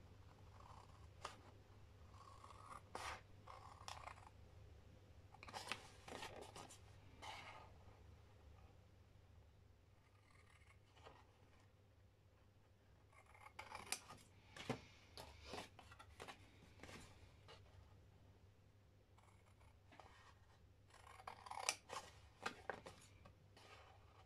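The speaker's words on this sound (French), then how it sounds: "je vais découper les carrés qui sont ici" Paper squares being cut out for an explosion box craft, giving repeated soft snipping and rustling bursts at a quiet level over a low steady hum, with pauses between clusters of cuts.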